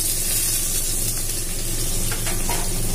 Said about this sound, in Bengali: তখন আমি এটার মধ্যে দিয়ে দিচ্ছি আমার কুচনো, এই পেঁয়াজ কুচি এবং রসুন কুচি